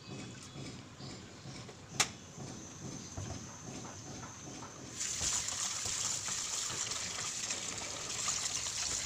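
Fish heads rinsed over and over under running tap water, a steady close splashing and trickle that grows fuller and louder partway through, with a sharp knock near the start.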